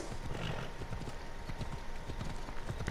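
Hooves of a horse in Assassin's Creed Odyssey clip-clop in a quick, steady galloping rhythm, close and loud over a continuous game ambience, with a faint whinny-like tone and no talking.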